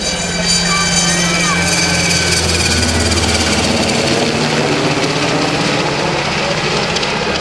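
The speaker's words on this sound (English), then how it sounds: "here comes our UH-60 Blackhawk helicopter, another conventional single main rotor system, twin gas turbine engines" A UH-60 Blackhawk helicopter with twin gas turbine engines and a single main rotor, departing at an air show, makes a loud, steady turbine whine and rotor rumble with a low throb throughout.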